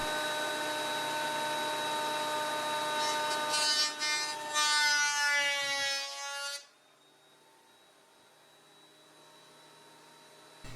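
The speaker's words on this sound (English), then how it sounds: "Now I'll run these through the planer to a thickness of about 1/4 of an inch." Thickness planer loudly planing pallet wood boards down to about a quarter inch, a steady whining roar with rising cutting noise that drops abruptly into the machine's lower idle hum once the board clears.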